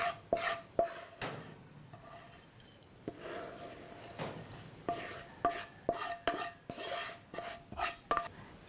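Balinese fried chili sambal with shrimp paste being plated, with sharp clinks and scrapes of utensils against dishes and stirring, scattered irregular knocks close by, no talk.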